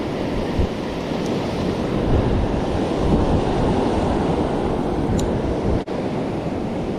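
Big, rough ocean waves on a weedy surf-fishing beach roll in as a steady, loud broadband roar for the whole stretch, with wind buffeting the microphone.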